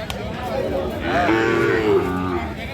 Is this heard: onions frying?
no